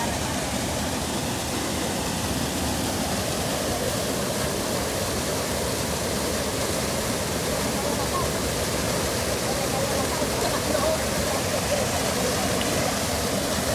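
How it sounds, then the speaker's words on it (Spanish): The San Esteban river at Quelepa, San Miguel, rushes in a steady, broad wash of flowing water that continues unbroken and fairly loud throughout. "Aquí estamos en este río. Río San Esteban."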